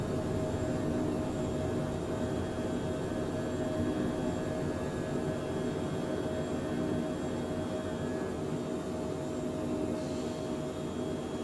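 A Phenom 100 light business jet climbs out after takeoff from Arba Minch, Ethiopia, in Microsoft Flight Simulator 2020, giving a steady, even engine roar and hiss with a constant tonal whine that holds unchanged the whole time.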